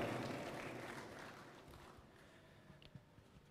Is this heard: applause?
yes